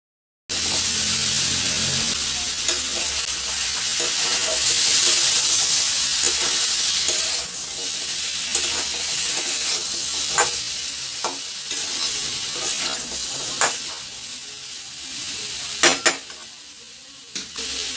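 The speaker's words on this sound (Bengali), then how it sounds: "এটাকেও কুমড়োর সাথে 1 মিনিট ফ্রাই করে নিচ্ছি।" Chopped potato and radish fry with pumpkin in a hot pan, giving a steady close sizzle with scattered clinks and scrapes of stirring throughout.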